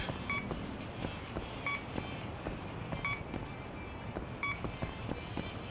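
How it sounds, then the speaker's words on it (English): Electronic beeps from the video game Lost Judgment, short tonal pips repeating in pairs roughly every 1.4 seconds over a steady bed of game ambience and background noise. "We got a beep."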